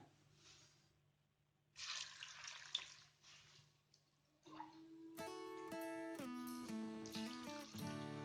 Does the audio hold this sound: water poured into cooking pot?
yes